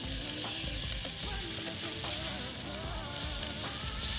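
Shrimp frying in a pan for saganaki while being stirred, a steady loud sizzle with soft scraping stirs throughout, close and alone.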